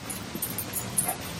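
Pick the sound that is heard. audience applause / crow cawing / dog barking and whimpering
dog barking and whimpering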